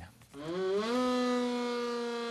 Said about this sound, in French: Ces sirènes d'alerte qui nous sont familières pour les entendre chaque premier mercredi du mois à midi